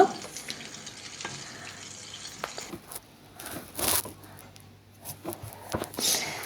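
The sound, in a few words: snack pieces frying in oil, stirred occasionally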